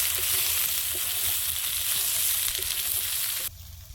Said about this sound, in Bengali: আলুটা আগে ভেজে নিয়েছি, তারপরে সয়াবিনটা দিচ্ছি, নাহলে সয়াবিনটা অনেক তেল টানতো। এবার আলুর সঙ্গে ভেজে নেব।